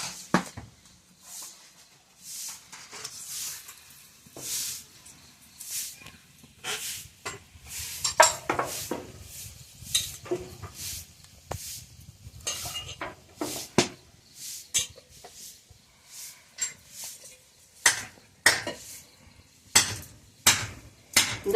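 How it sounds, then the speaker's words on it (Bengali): Fish pieces lightly frying in a pan for a village-style breakfast, a faint low sizzle under a steady run of sharp metallic clinks and scrapes from a spatula or utensil against the pan. "মাছটা একটু হালকা ভেজে দিচ্ছিলাম"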